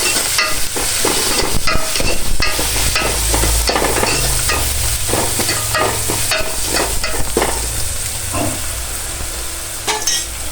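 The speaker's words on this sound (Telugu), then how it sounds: "ఇప్పుడు దీంట్లో కొంచెం అల్లం వెల్లుల్లి పేస్ట్, పసుపు వేసుకొని ఒకసారి కలుపుకుందాం" Ginger garlic paste and turmeric stirred into a hot pan for a broad bean curry, with repeated scraping spatula strokes over a constant loud sizzle, close up with no talk.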